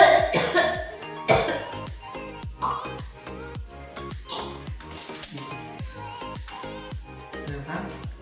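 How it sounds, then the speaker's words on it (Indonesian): A patient coughs while practising the effective cough technique after a deep-breathing exercise. Several sharp coughs come one after another, loud and close, with some faint talk between them. "lalu batukan ke tempat ini Pak"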